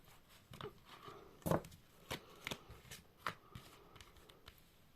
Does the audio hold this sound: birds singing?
no